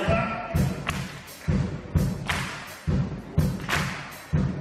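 A group clapping one clap at a time, giving sharp, crisp slaps repeated at a steady pace over low thuds, with faint voices in the background.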